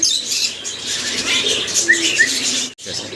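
A pair of lovebirds for sale at a pigeon and bird market chirp and twitter steadily amid dense, busy bird noise, with a brief flutter and a short sharp break near the end.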